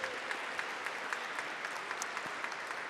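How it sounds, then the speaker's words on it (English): Audience applause at an awards ceremony, a steady wash of clapping from a crowd with no voices over it, holding at an even level throughout. "I think he deserves applause"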